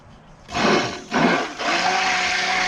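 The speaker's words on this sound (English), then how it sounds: "There's a stick blender" A stick blender whirs into motion in homemade cucumber-oatmeal soap mixture, stutters briefly, then settles into a steady loud buzzing drone.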